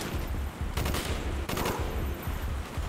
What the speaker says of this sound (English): How the fuck are there snipers in the trees? They're shooting at nothing!